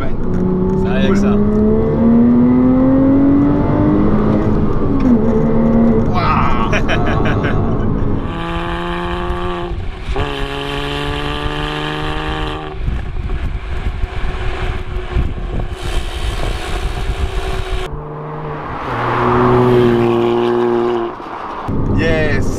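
A Porsche Cayman 987 flat-six engine accelerates on a winding country road, its rising harmonic drone climbing and falling through repeated gear changes, loud and close, with occasional voices over it.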